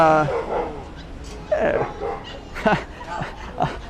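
A small puppy yips and whimpers in short bursts in a Chungmuro puppy store at night while a person talks nearby.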